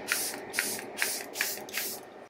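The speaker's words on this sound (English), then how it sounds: "I'm gonna set it one more time with my Charlotte Tilbury setting spray." Five quick hissing bursts of Charlotte Tilbury makeup setting spray at a steady rhythm, close to the microphone, each a short airy puff of mist with a faint click.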